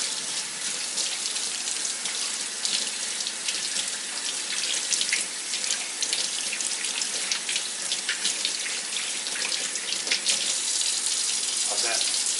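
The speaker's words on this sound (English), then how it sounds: "Wash your hands. I use dish soap." Water runs steadily from a kitchen tap as hands are washed with dish soap, a continuous splashing hiss that stays at an even level throughout.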